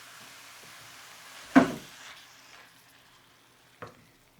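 Diced green peppers, onions and tomatoes browning in a pan, a faint low sizzle broken by one sharp scrape of the stirring utensil and a second softer scrape a couple of seconds later.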